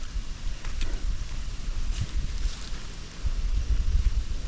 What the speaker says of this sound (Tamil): காற்று வேறு நல்லா அடிக்குது